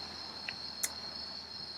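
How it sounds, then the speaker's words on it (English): Crickets chirp at night in a steady, faint high-pitched drone that runs throughout, with a couple of brief soft clicks on top. "Are the crickets accompanying me tonight?"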